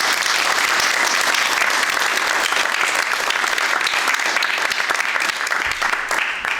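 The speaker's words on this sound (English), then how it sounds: "This is the time when we give our candidates our round of applause" A council-chamber audience at a candidate forum gives a sustained round of applause for the candidates, dense, steady clapping filling the room from start to finish.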